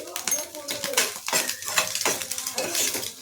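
A frying egg is chopped into pieces in a pan for egg fried rice, giving repeated close metallic scrapes and clinks of a utensil against the pan in an uneven rhythm.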